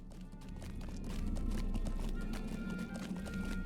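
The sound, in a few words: horse hooves of a riding steed in video game LOTRO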